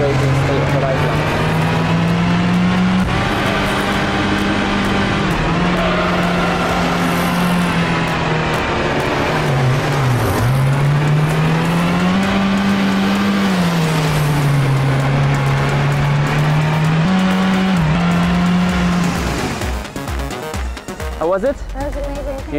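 Car accelerating on the Yas Marina race circuit: a loud, sustained engine drone rises and dips as the car gathers speed, heard close from inside the cabin, while people talk over it.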